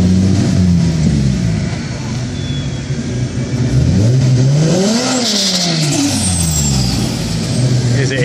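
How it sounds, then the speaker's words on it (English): A single turbo Toyota Supra with an HKS blow-off valve revs hard at San Antonio Raceway, its engine tone sweeping up and down loudly with a hissing release, amid crowd chatter and track noise. "Here's an HKS blow valve,"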